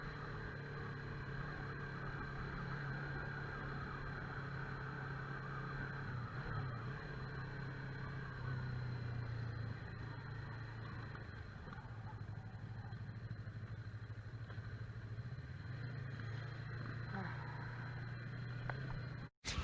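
A motorcycle rides through city streets, its mid-pitched engine droning steadily close by, the revs rising and falling gently with the throttle over wind rush, ending in a sharp knock.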